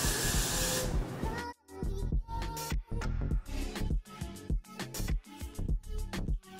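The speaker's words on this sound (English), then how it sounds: "you want that really good lace spray" A can of Got2b glue-free lace spray releases one close, loud hiss lasting about a second and a half, followed by someone talking.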